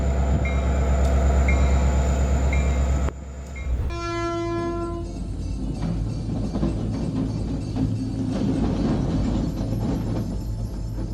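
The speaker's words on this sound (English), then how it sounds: "You don't expect to see a locomotive rolling through what looks like an ordinary street" A locomotive rolls through an ordinary street, starting with a loud low engine drone, then a horn blast and the steady rumble and clatter of rail cars passing close by.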